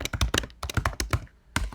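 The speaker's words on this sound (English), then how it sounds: "I typed in Joe Rogan" Quick bursts of typing on a computer keyboard entering a search query, a close, brisk run of key taps with a short pause before a final few strokes, no talking.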